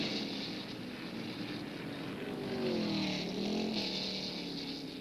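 1966 Can-Am sports racers, including Chaparral and McLaren cars, at Laguna Seca: a continuous engine drone from distant cars swells and fades as they climb and descend the hill, with wind noise and no talk.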